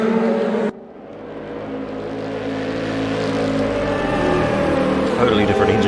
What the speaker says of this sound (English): Totally different engine note as he roars past the camera there